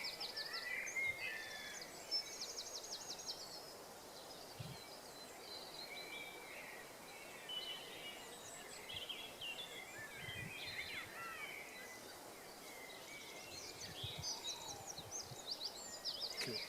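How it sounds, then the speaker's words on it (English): A blackbird sings fairly close at dawn on East Dartmoor, its phrases rising over a dense chorus of other birds, with steady outdoor background hiss throughout. "Blackbird a bit nearer now."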